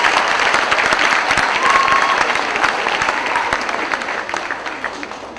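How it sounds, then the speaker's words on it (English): Sustained applause from a commencement audience honoring graduates of a public policy school, a steady dense crackle of many hands clapping that fades slightly toward the end, with no speech over it. "a round of applause for the MPDS graduates"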